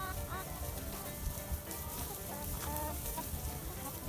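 Chickens cluck steadily inside a chicken tractor at a resort lodge, a busy, close flock chattering continuously, with a person talking nearby.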